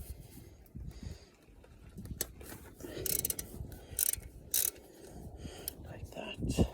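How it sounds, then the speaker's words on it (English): A ratchet with a 10mm socket loosens the ground-wire bolt on a Rover 75 engine during a head gasket job, giving quiet, scattered clicks and clatter with brief sharp bursts of mechanical noise, close and faint. "You need a 10mm socket to remove the bolt that holds the ground wire in place."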